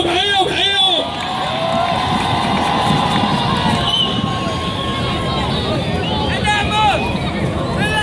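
A large crowd cheers and shouts at a modified car show during a Gulf traffic week exhibition, with steady dense roaring, whistles and a voice over a loudspeaker riding on top.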